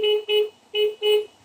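Stock horn on a Kymco KRV 180i motorcycle, sounded in four short, loud beeps in two quick pairs, each a bright, steady electric tone with nothing else around it.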